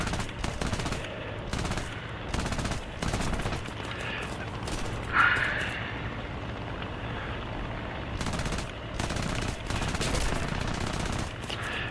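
Aircraft machine guns in War Thunder fire in short, sharp bursts, clustered early, then falling silent before more staccato volleys near the end, over a steady engine drone.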